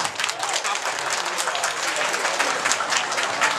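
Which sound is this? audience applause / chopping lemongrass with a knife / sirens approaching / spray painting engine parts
audience applause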